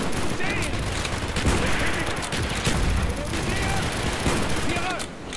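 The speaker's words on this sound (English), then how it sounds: "The bullets flying in my ears are getting a little too loud." Dense gunfire from the video game Call of Duty Black Ops, rapid overlapping shots and bursts filling the whole stretch at steady loudness, with a voice talking underneath.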